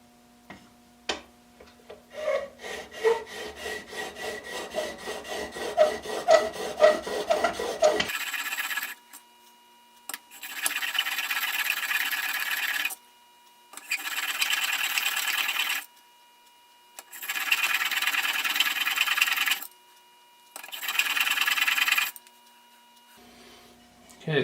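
A plane iron is rubbed back and forth on a coarse sharpening stone to rough in the bevel, several long rasping strokes separated by short pauses, close and fairly loud, with fainter ticking scrapes before the strokes start.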